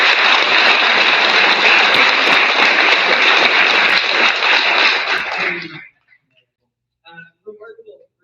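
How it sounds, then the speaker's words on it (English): Loud, sustained crowd applause for the Honor Guard at a Vermont Correctional Academy graduation ceremony, a dense wash of clapping that stops abruptly, followed by a few faint voices. "I'd like to give them a round of applause if you'll join me"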